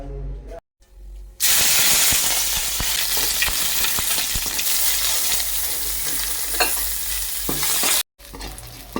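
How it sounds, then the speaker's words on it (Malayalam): Fenugreek, mustard seeds, dried red chillies, shallots and curry leaves fry in hot oil, a loud continuous sizzle with crackling spatters that starts abruptly and cuts off near the end. "ഉലുവ കടുക് ഇട്ട് പൊട്ടിക്കുക അതിനുശേഷം വറ്റലുമുളക് ചെറിയ ഉള്ളി കറിവേപ്പിലിട്ട് മൂപ്പിക്കും"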